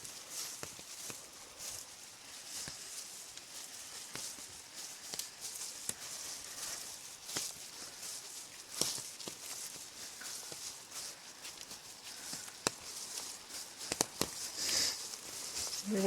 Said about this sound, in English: I brought an extra garbage bag and I wrapped it around my waist, and that's what you hear.